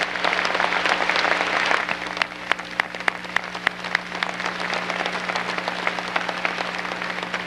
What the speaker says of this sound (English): Let's give this visionary a rousing round of applause.